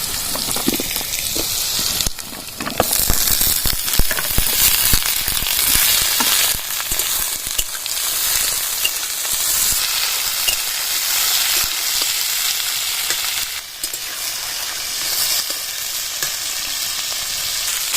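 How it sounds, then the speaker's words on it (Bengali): Potatoes frying in a pan with bitter gourd and mustard paste for a Bengali uchhe dish, a steady dense sizzle throughout with brief stirring clatter, close and loud, no talking. "আর আলুটা ভালো করে ভেজে নেবো"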